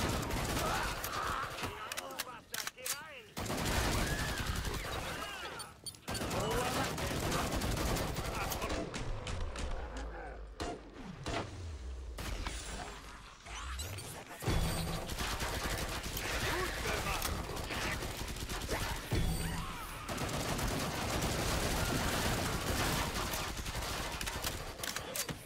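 Weapon fire in the zombie shooter Killing Floor 2, with repeated loud bursts and rattling shots scattered throughout, alongside game effects and someone talking in German.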